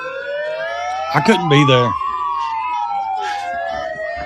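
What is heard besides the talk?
siren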